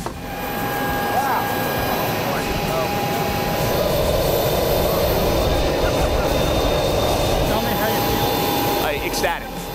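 A loud, steady jet engine roar fills the cabin of a Dassault Falcon 8X business jet after landing, with a high whine over it and a few brief clicks near the end.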